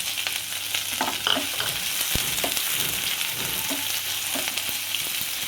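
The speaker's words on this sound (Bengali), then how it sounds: "পেঁয়াজটা আমি লাল লাল করে ভেজে নেব।" Sliced onions fry in hot oil with dried red chillies until reddish, a steady close sizzle broken by scraping stirs of a spatula against the pan.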